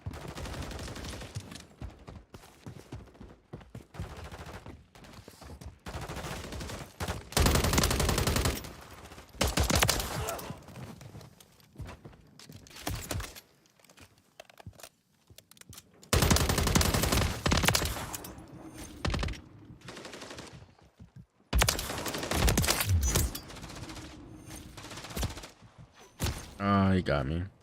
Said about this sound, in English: Gunshots aren't overwhelming.